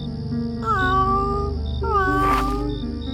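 A cartoon cat meows twice in drawn-out, wavering cries, close and clear, over a steady background hum.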